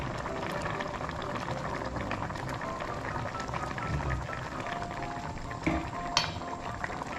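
Fermented fish sauce, about two ladlefuls, goes into a pot of simmering Thai egg-and-pork-belly curry, with a steady close bubbling boil and a brief pour and clink near the end.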